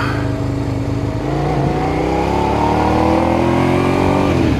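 A motorcycle engine drones steadily and loudly while riding through traffic, its pitch gradually climbing as it accelerates, with no talking.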